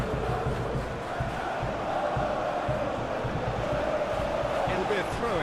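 Stadium crowd noise from a simulated UEFA Champions League football match between Slavia Praha and Arsenal in a video game, a steady, dense roar of spectators with swelling murmurs and occasional shouts, continuous throughout.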